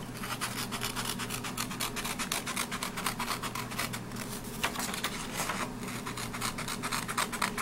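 Scissors snipping a paper cookie shape held on a clipboard, a steady run of rapid scratchy cuts and rustles, close and continuous for several seconds with no talking.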